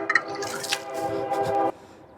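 Elephant toothpaste mixture of hydrogen peroxide, potassium iodide and dry cooking yeast in warm water foams up with wet squishing, bubbling sounds and a steady hiss that stops abruptly.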